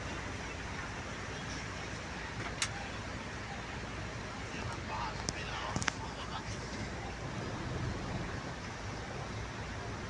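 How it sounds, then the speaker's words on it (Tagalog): Steady broadband rushing of fast-flowing water fills the scene, constant and loud, with a few faint clicks and knocks on top. "ang lakas ng takbo ng tubig"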